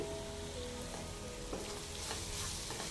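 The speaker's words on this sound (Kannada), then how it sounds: "ಈ ಥರ ಚೆನ್ನಾಗಿ ಫ್ರೈ ಆದಮೇಲೆ" Chopped ivy gourd fries in a pan, a constant loud crackling sizzle like light rain, with a few soft stirring knocks, close and without voices.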